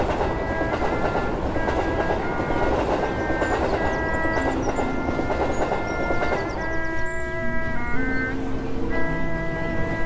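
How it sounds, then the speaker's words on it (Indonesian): A crowded passenger train of 1928 sets off toward Tanjung Priok, giving a continuous heavy rumble and clatter. Sustained whistle-like tones sound on top, shifting in pitch, with no voices. "Kereta api penuh sesak berangkat menuju Tanjung Priok."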